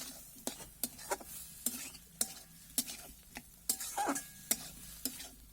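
Spice masala with turmeric, sugar and salt sizzles as it is stirred and fried in a pan, with a spatula scraping and clinking in repeated, fairly regular strokes over a steady background hiss, close and moderately loud, with no talking.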